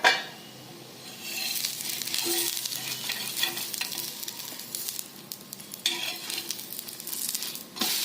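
Bajra dhapate roasting in oil on a covered pan over medium gas, a steady close sizzle and crackle running throughout with a few soft clinks, no talk.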